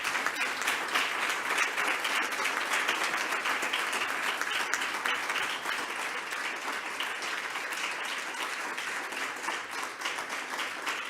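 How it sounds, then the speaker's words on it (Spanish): An audience at a poetry event applauds a woman, sustained dense clapping from many hands filling the room evenly, steady and moderately loud, with no speech over it. "Un aplauso para ella."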